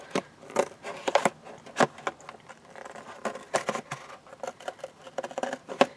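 Irregular snipping of scissors cutting around a drawn outline, quick close clicks and cuts coming in short bursts with small pauses, no talking.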